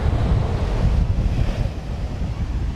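Strong wind buffeting the microphone at the seashore, a loud continuous low roar with the surf blending into it, and no voices.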